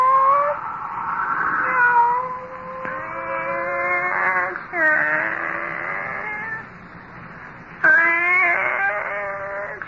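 A cat meows repeatedly in long, wavering, plaintive cries, loud and close, several calls in sequence with brief gaps between them.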